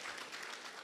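Brief wash of audience applause at a Women's Day gathering, steady dense clapping heard from a distance, fairly faint and continuous.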